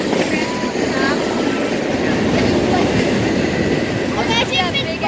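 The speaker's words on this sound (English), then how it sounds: "And then the train stops." A BNSF intermodal freight train rolls past at Rochelle, giving a loud, steady rumble of wheels and cars with faint squeals and clanks throughout.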